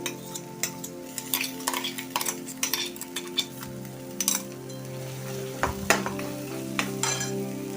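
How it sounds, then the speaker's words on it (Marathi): Spices sizzling in hot oil while tempering for misal, with a metal spoon repeatedly scraping and clinking against the pan in uneven bursts over a continuous frying hiss. "त्याला व्यवस्थित फोडणी करायची"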